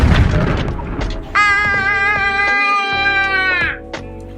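A voice sends a long, sustained tone into a huge old cannon at Anping fort, ringing and resonant for a couple of seconds, preceded and followed by brief talking and clatter.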